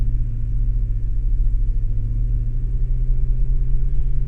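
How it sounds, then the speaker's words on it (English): Engine of a Ford ST2 Tour car running steadily, a loud continuous low rumble that holds a fairly even pitch with no clear rev sweep, close and alone with no talking. "Just running RPM up the scale here."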